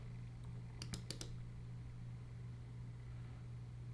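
A few quick keystrokes on a computer keyboard, typed while entering a passphrase during a Bitcoin wallet setup, sound close but soft in a brief cluster over a low hum in a quiet room.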